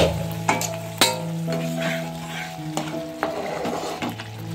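Ginger, onion and garlic paste masala for aloo dum fries in a kadai with a loud, continuous sizzle, punctuated by stirring scrapes and knocks over a steady background hum.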